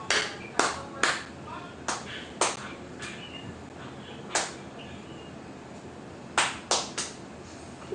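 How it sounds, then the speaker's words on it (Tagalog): Scattered handclaps during a virtual church community gathering, arriving as sharp, separate claps in small clusters rather than full applause, fairly close and crisp over faint background noise. "Palakpakan po natin. 3 palakpak."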